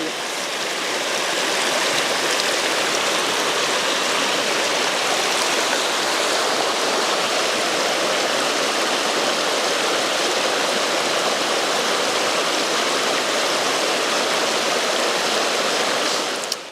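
A river runs steadily through woodland in Sullivan County, New Hampshire, a dense, continuous rushing of water that stays loud and even for the whole stretch with no voices over it.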